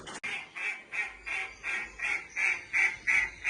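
Loud, repeated honking quacks from a duck, about ten calls in steady rhythm, each clear and close, with no talking over them.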